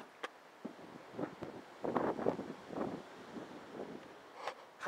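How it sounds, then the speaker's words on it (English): Gusty wind buffets the microphone in uneven rumbling bursts, rising and falling over a few seconds. "it's frickin' windy"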